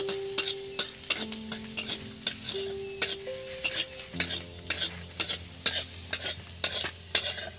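Eggplant fries in mustard oil while a spatula stirs it in a pan, with steady, rhythmic scrapes and taps about twice a second over a soft sizzle and quiet background music.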